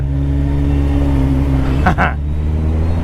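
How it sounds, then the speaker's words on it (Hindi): A Lamborghini Urus engine idles with a loud, steady low rumble close by, rising briefly in a short rev-like swell near the end. No one speaks. "ये देखो भाई लैम्बोर्गिनी उरुस गाइस"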